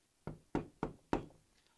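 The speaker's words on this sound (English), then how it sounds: "there was a knock on her uncle's door." Four firm knocks on a wooden door come in a steady, evenly spaced sequence, close and clear against a quiet background.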